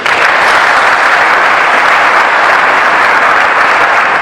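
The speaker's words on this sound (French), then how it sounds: "je voudrais pour cela vous faire bénéficier d'une salle d'applaudissements" A loud, sustained round of applause from an audience at a formal address, thick and even throughout, close and continuous with no voices over it.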